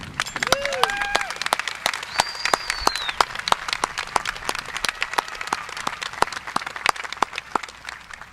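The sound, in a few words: applause at high school graduation ceremony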